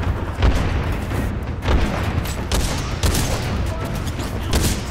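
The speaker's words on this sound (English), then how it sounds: "Firing sort of above their heads here." Gunfire in the video game Titanfall 2, loud repeated bursts of shots with booming low thumps, dense and continuous, close and alone without talk.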